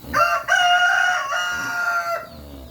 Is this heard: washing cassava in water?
no